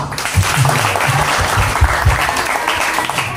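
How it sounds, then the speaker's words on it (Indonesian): A crowd at a Ramadan event at a hospital in Temanggung, Indonesia claps steadily and loudly for several seconds, a dense, continuous patter of many hands. "Tepuk tangan untuk Aisyah."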